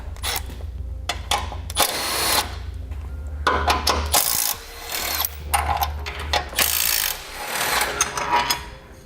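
A bracket's 10mm nut and 15mm bolts being removed with hand and power tools during base plate installation on a 2016 vehicle, bursts of ratcheting and whirring with metallic clinks and pauses between, close by and without talk.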